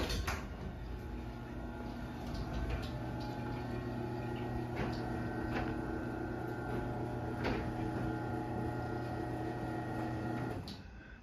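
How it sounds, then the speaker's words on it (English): A LiftMaster 8355 garage door opener runs with a steady, quiet motor hum and a faint whine for about ten seconds, then shuts off, heard nearby with no talking. "let's go ahead and run up this opener"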